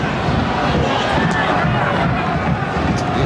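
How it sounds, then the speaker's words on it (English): Football crowd at a Charlton Athletic v Newcastle United FA Cup third round match, a dense continuous roar of many voices at steady loudness, with a commentator's voice under the noise. "Crowd encouraged by that."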